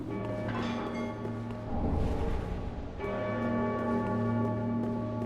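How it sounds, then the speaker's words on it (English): Church bells ringing in Dark Souls III, sustained tolling tones with a brief burst of noise in the middle, steady and moderately loud with no talk. "I can still hear the bells"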